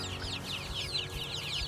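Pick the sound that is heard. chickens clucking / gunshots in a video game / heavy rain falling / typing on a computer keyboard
chickens clucking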